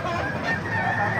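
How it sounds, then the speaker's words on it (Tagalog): Chickens and roosters crowd a busy market, their clucks and calls blending into a continuous dense noise in a short, loud burst. "mga manok dito, mga gaganda pa naman ito"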